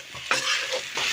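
Potatoes and babori greens fry in a pan, a close hiss and sizzle that swells in bursts as the mix is stirred, with a few brief scraping sounds and no talking.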